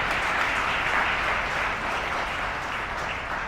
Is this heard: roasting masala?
no